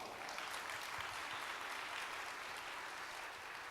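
Sustained applause from a convention dinner audience, steady broadband clapping throughout at moderate loudness with no voices rising above it.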